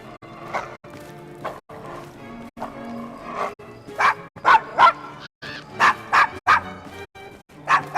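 A dog barks repeatedly in Assassin's Creed Syndicate, a run of sharp, loud bow-wow yaps and yips in quick bursts that grow denser toward the end, set against low game ambience.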